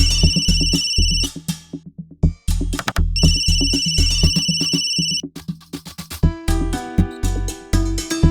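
A loud electronic phone ringtone plays in repeated bursts of bright tones with short gaps, shifting to a different melody near the end.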